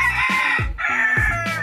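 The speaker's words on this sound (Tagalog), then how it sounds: "kanta ka lang ng kanta dyan, manok" A rooster crows loudly and close by, two long harmonic calls in quick succession with no talking.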